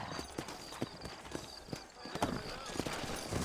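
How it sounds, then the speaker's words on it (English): Horse hooves clip-clop in a steady, fairly close rhythm through the Western video game Red Dead Redemption, set in the town of New Ulm, with a voice talking over the hoofbeats. "You ain't gonna find sturdier horses than these in all of New Ulm."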